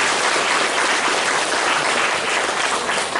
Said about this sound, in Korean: 우리 또 축하의 박수를 부탁드리겠습니다